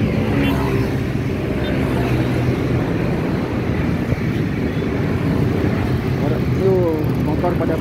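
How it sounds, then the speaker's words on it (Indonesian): Steady motor vehicle traffic rumbling below a flyover at Kramat Jati, Jakarta, in the evening rush as motorbikes head home from work; a continuous low drone with faint horn-like tones near the end. "suara kendaraan bermotor."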